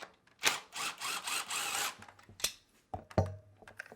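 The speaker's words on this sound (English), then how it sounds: "So right now we're removing these head bolts" Engine head bolts are loosened with a power tool during a valve replacement: a long buzzing burst, then several short sharp bursts and clicks, fairly close and fairly quiet.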